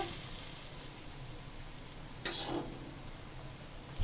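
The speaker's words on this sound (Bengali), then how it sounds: "দেখতেই পাচ্ছ আমার ঝোলটা ফুটছে দেখো এক এক করে বড়া আমার ছাড়া হচ্ছে" Fish fritters drop one by one into a boiling fish gravy, giving a quiet steady bubbling sizzle with a couple of brief louder splashes.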